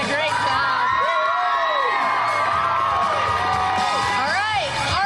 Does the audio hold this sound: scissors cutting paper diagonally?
no